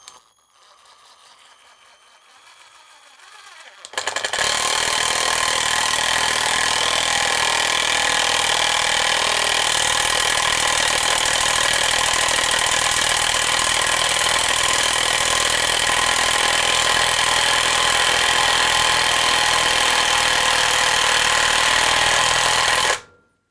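A loud, continuous rapid mechanical hammering of a Genesis 12V lithium-ion cordless impact driver driving a screw into a hard spot, starting abruptly after a quiet moment and running steadily for nearly twenty seconds.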